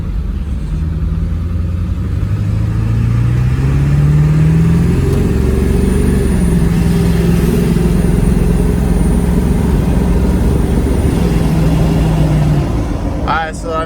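A 2002 7.3 diesel truck engine with a Stage 2 63/73 turbo and S&B intake revs up at partial throttle, a loud, close, rising and falling rumble with turbo whine over it.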